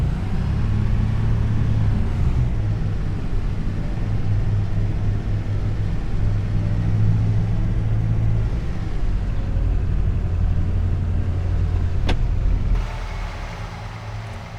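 A Lada car engine drives in a farm restoration game, a steady low rumbling drone with a continuous hum that holds for most of the stretch, then eases off near the end.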